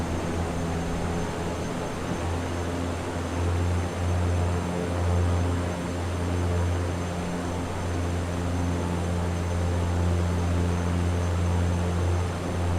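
A Viking Air CL-415 water bomber at full throttle during water-scooping practice on Crater Lake: a loud, unbroken turboprop roar with a deep droning hum and a wide hiss, steady from start to finish.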